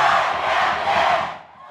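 A student cheering section at a high school varsity boys basketball game roars in a loud, sustained crowd shout that swells then fades over a couple of seconds.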